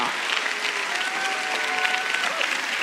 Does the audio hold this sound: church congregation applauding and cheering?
yes